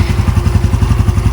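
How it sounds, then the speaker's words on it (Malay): A Honda Wave 125i engine runs just after a spark plug change, a loud, close, evenly pulsing putter at steady idle with no talk. "Motor hidup, bateri okey, spark plug okey."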